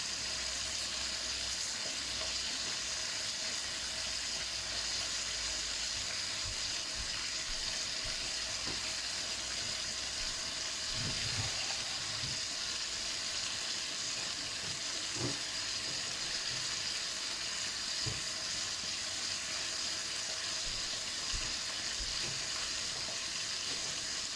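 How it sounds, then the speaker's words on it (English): Continuous crackling sizzle of Thai-style crispy pork frying in a pan, steady and even throughout, with occasional soft clinks. "Pork still sizzling away in the background there."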